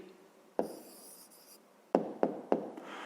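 A pen writes an answer by hand on paper, with a short stroke, a pause, then three quick taps and scratches in a row, close and quiet with no voices.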